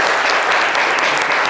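A live studio audience at a French talk show breaks into loud, close, sustained applause, a dense wash of clapping that stays constant throughout.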